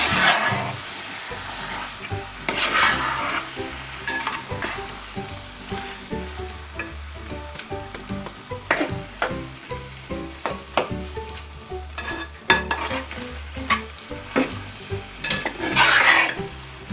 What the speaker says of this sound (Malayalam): ഇനി ഇതിൽ ടൊമാറ്റോയുടെ ചേർത്ത് കൊടുക്കാം.